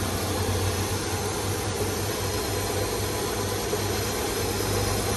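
A 2009 Hyundai Tucson's 2.7-liter six-cylinder engine idles with a steady, even hum and a constant low drone that holds without change throughout.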